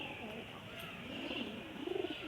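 Cross-bred racing pigeon cooing softly in a low rolling murmur, a few short coo phrases building toward the end amid steady background hiss.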